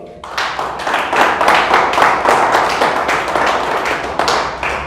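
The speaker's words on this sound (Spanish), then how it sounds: "¿Le damos un aplauso a Dios?" A church congregation applauds during a pastor's sermon, with a burst of dense, loud clapping that starts abruptly and carries on steadily for several seconds.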